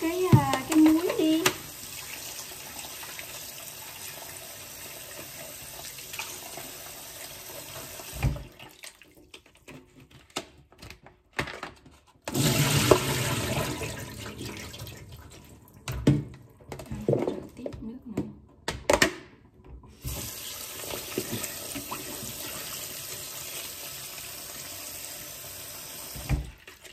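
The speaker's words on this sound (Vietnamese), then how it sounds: "Rửa 2-3 nước cho nó tan bớt cái muối." Salted cucumbers rinsed under a running tap in a sink, water splashing and gushing in several bursts with pauses between, while a person talks over it.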